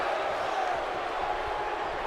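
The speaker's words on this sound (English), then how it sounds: "now the crowd souring on Kevin Owens" An arena crowd in the WWE 2K18 wrestling video game, a steady loud murmur of massed voices during a SmackDown Live match, with a commentator talking over it.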